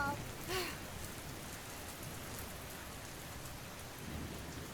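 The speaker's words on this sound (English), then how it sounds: "Between flashes of lightning tearing through the sky and the rolling thunder, rain began to pour down like a waterfall." A storm sound effect with steady pouring rain hissing throughout and a low rumble of rolling thunder near the end, moderately loud and with no talking.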